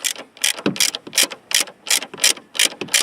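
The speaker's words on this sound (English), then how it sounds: "And then I torque this one down." A ratchet wrench clicks in quick, steady bursts, about a dozen close, sharp pulls, while tightening a shock absorber bolt on a 1975 Corvette.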